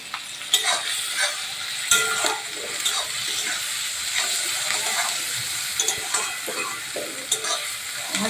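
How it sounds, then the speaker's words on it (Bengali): Onions and chopped tomato frying in a pan with salt, a bright steady close sizzle with frequent spatula scrapes and knocks as the mixture is stirred. "পেঁয়াজটা হাফ ভাজা হয়ে গেছে"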